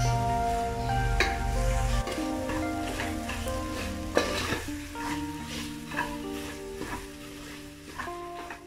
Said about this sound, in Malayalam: ഇനി ഇതിലേക്ക് ആവശ്യത്തിനുള്ള വേപ്പിലയും കൂടി ഇട്ട് കൊടുത്ത് നന്നായി വഴറ്റി കൊടുക്കാം.